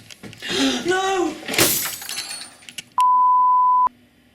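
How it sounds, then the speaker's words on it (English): Expensive studio lighting topples over and smashes in a short crashing, shattering burst while a green screen is being set up. A voice sounds just before the crash, and a loud steady censor beep follows. "That was my expensive lighting falling over and smashing while I was setting up a green screen to shoot a Christmas video"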